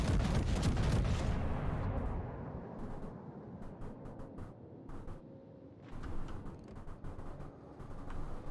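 The main guns of the USS Texas battleship fire in a naval video game, a heavy booming salvo at the start that fades into rumbling echoes, followed by scattered crackling bursts.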